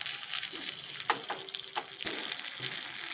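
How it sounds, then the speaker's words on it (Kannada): Green chillies and ginger fry in a pan of oil for a restaurant-style black chickpea curry, giving a close, even sizzle with a few soft clinks and stirring touches. No one speaks. "ಸ್ವಲ್ಪ ಫ್ರೈ ಮಾಡ್ಕೊಳ್ಳೋಣ"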